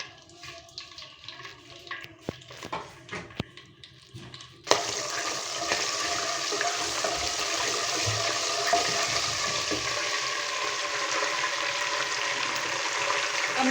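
Whole garam masala spices hit about half a cup of hot oil for chicken karahi, giving a sudden loud, steady sizzle that starts partway through and carries on alone to the end, after quieter kitchen clatter.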